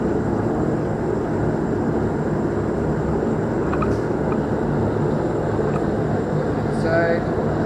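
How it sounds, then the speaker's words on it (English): A lit propane forge burner gives off a steady, loud, broad roar that holds unbroken throughout, close by, with only a few faint brief clicks on top. "Here we're going to light the forge. Turn on the propane, and"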